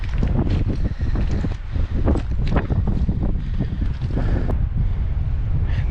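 Strong gusty wind buffets the microphone on a rocky, loose-stone mountain trail up toward Grinnell Glacier in Glacier National Park, a loud, continuous roar with surging gusts throughout.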